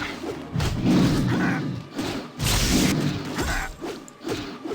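Missiles striking a polar bear in the Baldur's Gate computer game: a run of heavy thuds and crashing impacts with whooshes, loud and close, in two main bursts with lighter hits between.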